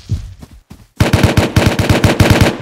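Rapid automatic gunfire from an Apex Legends PvP fight: a brief quieter lead-in, then a loud, steady burst of closely spaced shots running to the end.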